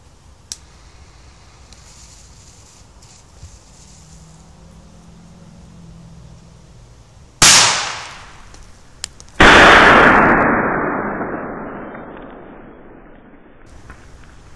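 Two loud A-Böller firecracker explosions about two seconds apart, the second even more powerful, each leaving a long echoing tail over quiet outdoor surroundings.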